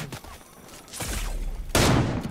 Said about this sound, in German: Wie kann der auf mich schießen?